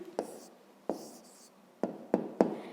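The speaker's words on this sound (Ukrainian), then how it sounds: "Записуємо тоді відповідь." A pen writes down the answer to a fifth-grade maths exercise, heard up close as quiet scratching with several sharp taps as strokes start, in a hushed room without talk.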